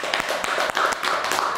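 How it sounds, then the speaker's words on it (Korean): Audience applause at a talk on meditation and life advice: a thick, continuous patter of many hands clapping at once, close and fairly loud, with no voices heard. "박수 한번 쳐주세요"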